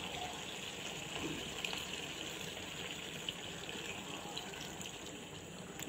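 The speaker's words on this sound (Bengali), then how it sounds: "তার সাথে আমি একটু তরল দুধ দিয়ে দিব একটু টেস্টের জন্য।" Liquid milk poured into a pan of spicy restaurant-style chicken bhuna, a soft steady pouring and trickling sound lasting throughout, close by and fairly quiet, with no talking.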